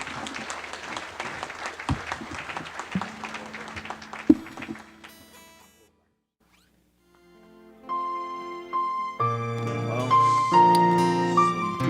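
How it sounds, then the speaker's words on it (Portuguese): A church congregation at a regional pastors' gathering in Clevelândia breaks into dense, steady applause for about five seconds, which stops abruptly into near silence before music with singing and instruments swells in. "Vamos aplaudir o Senhor."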